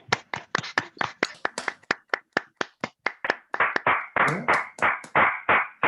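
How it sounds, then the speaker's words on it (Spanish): Scattered hand claps from several unmuted remote participants at an online mathematics talk, sharp and uneven at first, then thickening into a denser, louder patter of applause toward the end, with no talk over it. "démosle un aplauso, desmuteando los micrófonos"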